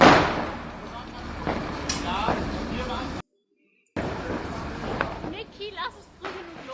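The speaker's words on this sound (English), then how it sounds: "Now here's another firework." Fireworks bursting outdoors: a series of sharp, booming explosions with crackling tails, loud and close, interrupted by a brief silent gap, with voices in the background.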